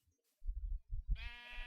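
A sheep bleats in a Minecraft Gregtech modpack game, one short wavering bleat close by after a few soft thumping footsteps, with no talking.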